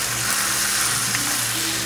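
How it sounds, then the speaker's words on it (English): Beef sizzling in a Lodge 3.2-quart cast iron combo cooker, a steady loud hiss of frying fat that stays close and continuous without pause. "Listen to that sizzle drizzle."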